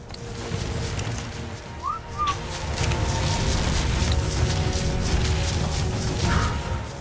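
A player in the video game ARK Survival Evolved whistles to call a pet: two short, rising whistles, one near the start and one near the end, over a constant wash of in-game rumble and wind.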